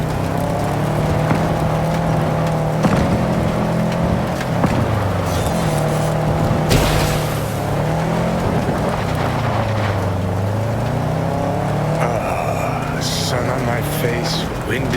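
Steady engine drone of a car driven in Cyberpunk 2077, humming continuously with shifting pitch under background music and game voices, with a brief loud whoosh midway.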